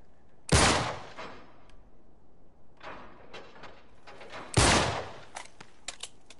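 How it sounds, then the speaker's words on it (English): Two loud, sharp gunshots about four seconds apart in the Uncharted 3 video game, fired at a lock, each with a short ringing tail and faint clatter between them. "I'll shoot the lock"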